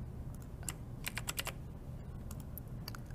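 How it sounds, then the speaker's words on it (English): Computer keyboard typed on in short, irregular bursts of crisp key clicks, faint and close against a quiet room hiss, with no voices. "this is what we're typing out"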